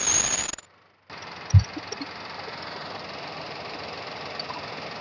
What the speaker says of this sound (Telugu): ఇంజన్ చాలా నీట్ కండిషన్ లో ఉందండి.